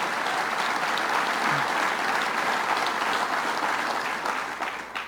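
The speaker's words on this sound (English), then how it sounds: "Give him a round of applause." Applause fills a community college hall at a governor's economic development event: a dense, steady wash of many hands clapping at once, fading a little at the end.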